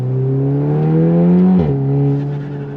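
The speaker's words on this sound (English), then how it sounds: "You do get a little bit of an elongated pop sound" A Volkswagen Golf R with an IE Stage 2 tune and exhaust holds a steady, loud engine drone, then drops off sharply with a brief burble of overrun pops near the end.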